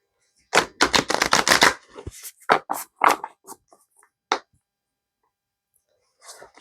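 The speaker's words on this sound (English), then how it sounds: "I try to shuffle them in the opposite way that they bend to try to flatten them back out again." Large tarot cards being shuffled by hand, a dense burst of rapid papery riffling followed by scattered softer card slaps and flicks, close and clear with no talking.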